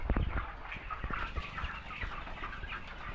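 Broiler chickens cluck and murmur close by, a busy overlapping chatter of many birds in a farm shed, with no talking.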